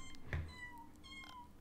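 A single bright kitten meow rings out in the life-simulation game The Sims 4, followed by soft game chimes and tones over a low background hum, without speech.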